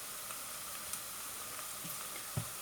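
Softened onions frying with ginger garlic paste in a pan, a quiet, steady sizzle with a few faint stirring knocks, one slightly louder near the end.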